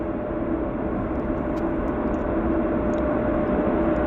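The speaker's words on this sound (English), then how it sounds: "Oh, we've got a WestJet on the roll." A WestJet jet airliner rolls for takeoff at Vancouver airport, its engines a loud, steady broadband roar that holds evenly throughout, with faint high chirps over it.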